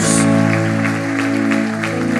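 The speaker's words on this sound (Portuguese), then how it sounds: "Você pode aplaudir a Jesus?" Congregation applauding during a Portuguese-language church service, a broad wash of clapping under sustained organ-like chords, fairly loud and continuous through the short stretch.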